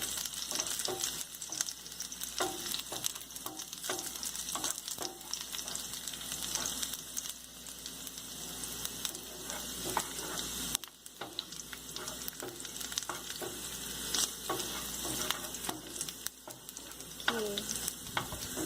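Garlic sizzles in heated oil for Italian red-sauce pasta, a continuous crackling fry with frequent spatula scrapes and taps over nearly twenty seconds, loud and close with no talking.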